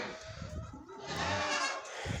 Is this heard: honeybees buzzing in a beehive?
no